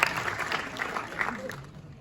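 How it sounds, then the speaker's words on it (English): A panel Q&A audience applauds, a dense wash of clapping from a crowd some distance back, with a voice talking over it as the applause fades. "I hear the crowd back there too"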